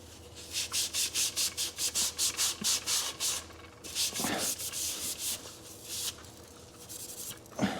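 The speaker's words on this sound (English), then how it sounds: "I'm gonna use a scuff pad to get the rest of this stuff out" A scuff pad scrubs rust inside the fuel tank of a 1988 Mercedes 260E, close rhythmic rasping strokes in quick repeated bursts, then slower, more uneven scrubbing.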